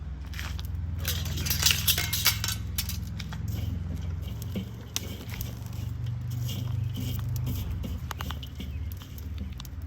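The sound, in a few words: hot charcoal being spread in a Weber kettle grill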